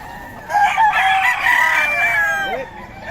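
Young rooster (stag) crowing once up close at a Pampanga poultry seller's, a strained, wavering call lasting about two seconds against quiet background.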